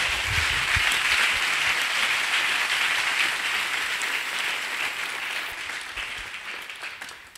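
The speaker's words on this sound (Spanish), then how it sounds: "Dele fuerte el aplauso al Señor Jesucristo." Sustained applause from a church congregation, steady and full through the whole stretch, slowly thinning toward the end.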